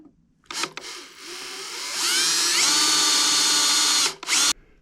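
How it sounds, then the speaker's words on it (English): A power drill bores a small hole into the center of a stripped bolt: a couple of short close-up bursts, then a steady high whine for about two seconds before stopping, with one brief final burst. "So you drill a small hole in the center, and then this is a reverse drill bit."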